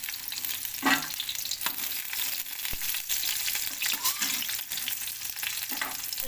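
Onion, garlic and ginger fry and are stirred in hot oil during home cooking of a Maharashtrian puran poli meal, a close, steady sizzle broken by occasional utensil scrapes and clinks.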